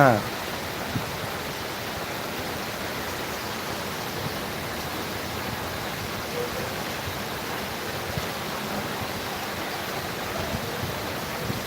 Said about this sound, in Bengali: হ্যাঁ বৃষ্টি